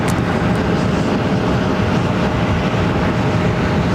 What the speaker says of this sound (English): love the reverse thrust sound on both the 330 and the 380.